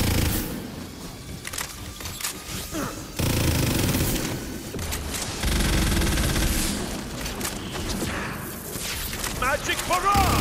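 A magic barrage spell firing in Tiny Tina's Wonderlands, with dense bursts of rapid blasts and booming impacts in waves across the whole stretch. A voice talks over the mix.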